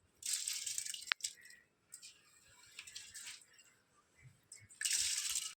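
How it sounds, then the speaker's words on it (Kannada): Uncooked rice rattles as it is poured into a pot of boiling water on a gas stove, with bursts of hissing and bubbling at the start and again near the end. "ಈಗ ನೀರು ಕುದಿದಿದೆ, ನಾವು ಇದಕ್ಕೆ ಅಕ್ಕಿಯನ್ನು ಹಾಕುವ."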